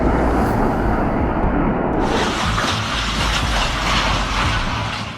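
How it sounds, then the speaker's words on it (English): A train on a railway line collides with a car trying to cross the tracks, heard as a loud continuous rumble and rushing roar of the passing train with a broad hissing noise throughout. "Train crashes into car trying to cross tracks."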